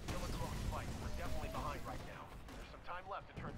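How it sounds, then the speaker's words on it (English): Titan gunfire in the Titanfall video game, rapid heavy shots and mechanical crashes that go on steadily under an excited player voice talking over the battle. "I got two titans shooting at me"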